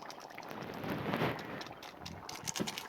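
Fish curry with cumin paste bubbling in a pan, a steady broad hiss and sizzle running throughout with soft irregular pops, close and moderately loud, no talking.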